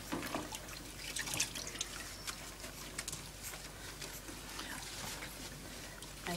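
Water runs steadily from a tap while an old dog is bathed at an animal hospital grooming area, a soft, fairly faint splashing and pattering throughout.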